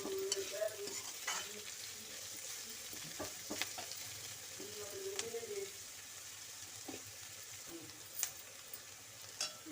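Onion fries lightly in a pan for veg hakka noodles, making a soft, quiet sizzle punctuated by scattered clinks and scrapes of stirring.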